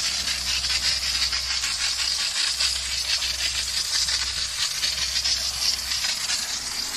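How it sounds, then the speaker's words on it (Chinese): A steam spray gun from a door-to-door car wash machine hisses steadily against a dirty car body, a loud, close, continuous rushing hiss with no pauses and no talk. "蒸汽清洗是边洗边擦。"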